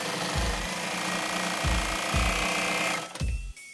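A serger sewing T-shirt fabric runs in a fast continuous whir, with several heavy rhythmic thumps, then stops abruptly near the end as it chains off.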